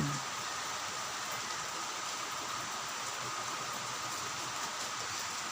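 Steady rain hisses continuously, an even wash of falling water with no voices.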